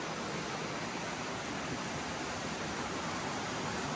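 Creek flowing near a tree house, a faint, even wash of running water heard from a distance, steady and unbroken with no voices.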